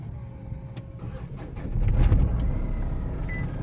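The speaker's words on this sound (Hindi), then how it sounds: "आप देख सकते हैं गाड़ी हमारी स्टार्ट हो गई है" A Mahindra KUV100 engine cranks and fires up about halfway through, settling into a low rumbling idle; faint mechanical clicks come before the start, with no speech.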